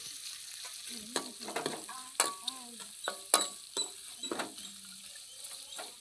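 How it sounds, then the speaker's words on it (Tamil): Onions sautéing in a pan, with frequent spatula scrapes and stirring taps over a soft sizzle, close and moderately quiet. "வெங்காயம் வதங்கிட்டு இருக்கு"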